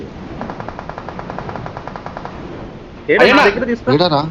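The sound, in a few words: gunfire in the video game BGMI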